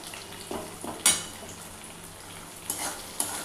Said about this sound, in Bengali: কড়াইতে তেল দিয়ে পেঁয়াজটা কষিয়ে নিচ্ছি।